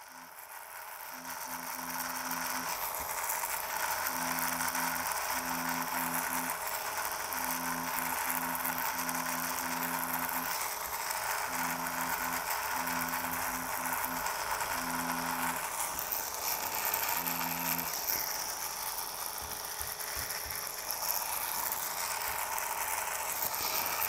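A tattoo machine needle works slowly on fine hair strokes, giving a low mechanical buzz in short, irregular bursts with brief pauses, over a steady background hiss and no talking.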